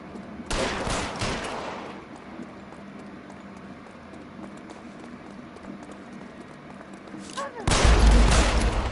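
Gunfire in the video game L.A. Noire: a loud rapid burst of shots near the start, a quieter stretch, then another heavy volley that roars to the end.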